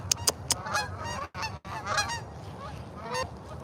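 A wild goose honks repeatedly outdoors near a pond, with several loud, harsh calls that come in bursts and then trail into softer honking. The goose sounds fairly close.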